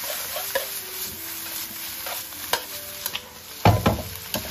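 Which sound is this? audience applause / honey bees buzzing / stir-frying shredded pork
stir-frying shredded pork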